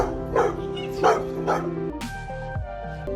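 A dog barks and yips excitedly in short bursts on seeing her dad, a soldier, return home, with brief whimpering sounds and a busy background of voices.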